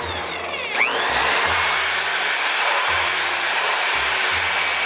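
A drill widens a small hole in a motorcycle fender being fitted from a Titan 160 to a Titan 125, with a loud, continuous high whine close by that dips briefly in pitch near the start.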